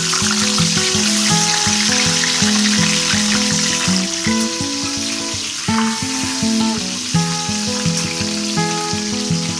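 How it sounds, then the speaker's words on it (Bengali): Small golden fish fry in oil in a kadai for fish curry, a loud, dense crackling sizzle running continuously with music playing over it. "আমি মাছের ঝোল করার জন্য আগে মাছগুলোকে ভেজে নিচ্ছি।"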